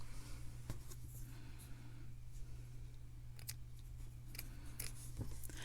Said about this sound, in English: I'm going to go ahead and cut the yarn